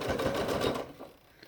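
A sewing machine runs a short burst of quick, rhythmic stitches on a quilt block, close and clear, then stops abruptly and leaves near silence.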